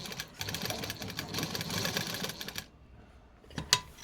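A sewing machine stitching a side pocket onto loose Patiala pants, a close, fast whirring run of about two and a half seconds that stops abruptly, followed by near quiet and a single sharp click.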